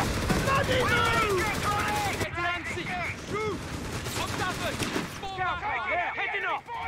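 Enemy gunfire crackles in a World War-era combat video game as an anti-tank gun position is rushed, with dense rifle and machine-gun bursts rattling continuously under loud shouted voices.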